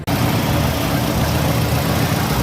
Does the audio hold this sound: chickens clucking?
no